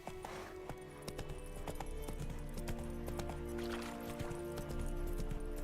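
Roach, a horse in The Witcher 3 video game, gallops with steady rapid hoofbeats, close and loud, over a game music and ambient bed.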